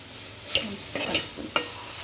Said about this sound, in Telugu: ఉప్పు వేసి ఒకసారి కలుపుకుందాం.